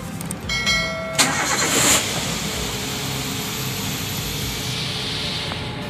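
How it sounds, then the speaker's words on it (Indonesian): A petrol car engine cranks briefly with a whirring starter, catches, then settles into a steady idle hum close by. "dengan menghidupkan mesin."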